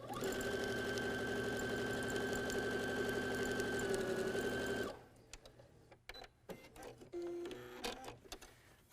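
Sewing machine stitching a maple leaf quilt block, running steadily and loudly for about five seconds with a dense rapid needle rhythm, then stopping, followed by quieter handling sounds and faint rustling.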